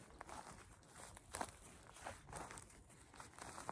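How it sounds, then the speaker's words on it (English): Footsteps of a person out walking, a steady series of soft crunching, crinkling steps at moderate distance, faint and even across the stretch with no talk. "In the now, I can hear the sound of my footsteps."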